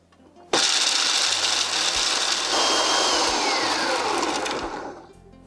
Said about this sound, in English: go ahead and put it in the food processor